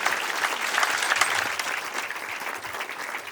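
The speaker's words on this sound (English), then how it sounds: "So an applause." Wedding guests applaud after the speeches, a full, dense burst of many hands clapping that stays loud and lively, then eases slightly toward the end.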